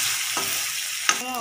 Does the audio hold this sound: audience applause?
no